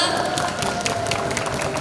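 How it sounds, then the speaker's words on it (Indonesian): Studio audience clapping during a TV health talk show, a dense patter of hands at moderate level with a faint tonal hum and some murmuring underneath. "Mana dong tepuk tangannya ini buat adik-adik semua?"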